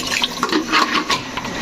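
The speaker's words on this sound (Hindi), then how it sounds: "हल्का सा पानी लगाना है" Water is splashed into a pan of Pakistani-style potato and egg curry (aloo anday ka salan) to loosen a thick gravy, giving a short, close burst of pouring and sloshing liquid.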